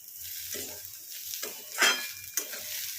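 Carrots for upma sizzle and fry in a pan while a utensil scrapes and stirs intermittently, with a couple of sharper metallic clinks, close and steady.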